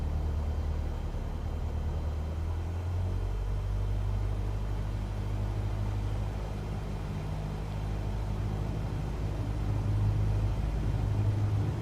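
Aircraft engine idling as the plane taxis in Microsoft Flight Simulator 2024, a low steady drone and rumble that holds throughout with a slight rise in power near the end.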